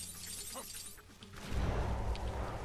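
Something shatters in the LEGO Marvel Super Heroes video game, a sudden burst of crumbling, clattering pieces that swells and keeps rattling after a quieter stretch with faint background game sounds.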